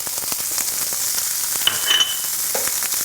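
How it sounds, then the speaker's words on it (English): Steady, dense sizzle of meat frying in a hot pan, a continuous crackling hiss with a few brief clinks from a utensil. "Make sure it's going into a hot pan, guys. You're gonna hear that sizzle."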